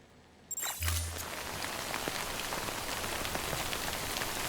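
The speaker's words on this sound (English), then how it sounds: "Good rain sounds, right?" Steady rain falling in the video game Death Stranding, a dense even hiss of drops pattering on surfaces that starts abruptly after a brief quiet moment and a low thump, continuing close and uninterrupted with no talk.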